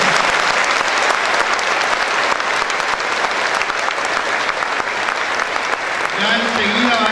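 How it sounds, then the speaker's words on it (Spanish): An audience at a diocesan student gathering on Sacred Scripture applauds loudly to welcome a priest, the dense clapping sustained throughout before a voice begins speaking near the end. "le recibimos con un fuerte aplauso"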